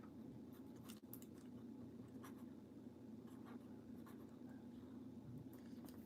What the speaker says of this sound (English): I'm gonna write something down on a piece of paper